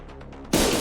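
A sudden loud explosion in the video game Limbus Company, a single sharp broadband blast that cuts in after a quiet half second and rumbles on without fading.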